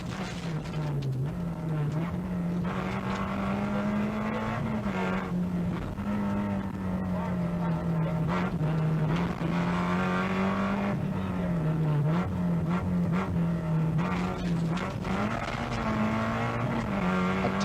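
Porsche rally car racing hard along a stage at the 1986 Killarney Rally of the Lakes, engine note rising and falling through gear changes, a continuous distant-to-mid roar with no talk.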